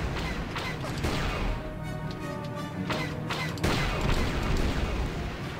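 Bursts of blaster-style gunfire from a firefight in the Star Wars Knights of the Old Republic video game, repeated sharp shots and crashes over a dense, loud game soundtrack.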